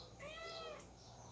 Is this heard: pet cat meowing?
yes